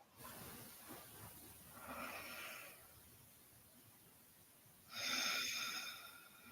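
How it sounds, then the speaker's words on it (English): Slow deep breathing, in through the nose and out through the mouth: two soft, airy breaths a few seconds apart, the second louder and nearer, with near-silence between them. "let's inhale through our nose and we'll exhale out through our mouth"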